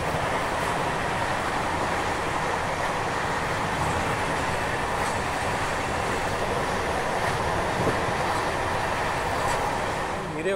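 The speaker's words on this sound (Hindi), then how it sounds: "लगातार 120-130 की रफ्तार में हमारी ट्रेन चल रही है" The 12870 Howrah Express running at around 120 to 130 km/h, a loud continuous rumble and roar of wheels on track heard from inside the coach with faint rhythmic clatter throughout.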